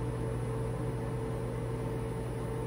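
A microwave oven runs with a bar of Ivory soap inside, giving a steady, quiet hum with a faint even noise and no talking.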